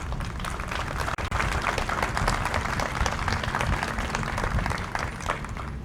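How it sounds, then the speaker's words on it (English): A ceremony audience gives sustained applause for a brass quintet at a Veterans Appreciation event, thick continuous clapping from a large crowd. "You can stand up and please give them a round of applause, please."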